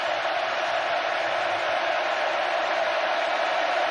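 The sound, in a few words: stadium crowd roaring at college football game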